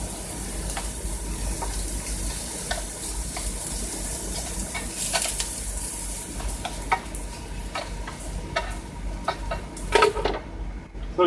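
Ham and asparagus stir fry sizzles steadily in a pan with a splash of water and drops of olive oil, cooked inside a truck, with occasional clinks and scrapes of stirring.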